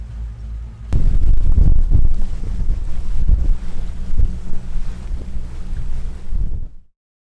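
An old boat is under way in the San Juan Islands after pulling anchor, giving a loud, steady rush of wind buffeting the microphone over low water and hull noise for about six seconds before it cuts out, with no speech.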